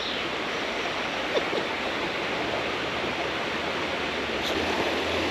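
Steady rushing water of a river in central France flows continuously, a dense broadband wash running close by, with no voices over it.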